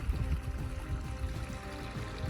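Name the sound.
small burn (stream) trickling through a green pasture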